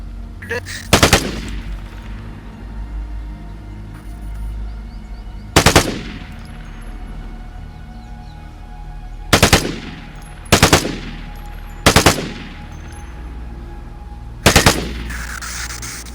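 Machine gun fire in the Vigor shooter game crackles out in six short, loud bursts spaced irregularly over a steady background hum, with no talk during the shots.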